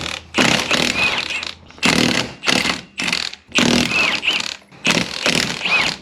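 A power tool removes the wheel lug nuts on a Can-Am Commander in five loud, close bursts of buzzing rattle, each lasting about a second and divided by short silent gaps.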